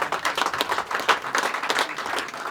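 Crowd clapping at a political rally in Bidasar, Laxmangarh, breaking out as a dense, steady patter of many hands that keeps rising and falling in small waves for a couple of seconds.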